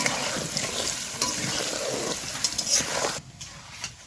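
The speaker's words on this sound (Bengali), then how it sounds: "আলুগুলো আমি লাল লাল করে ভেজে আমি নিচ্ছি" Potatoes fry in hot oil with salt and turmeric, a steady close sizzle with occasional stirring scrapes, cutting to a quieter tail near the end.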